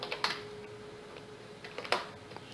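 Computer keyboard typing, a few quiet scattered key clicks in two short bursts at a desk, faint and close with no talking.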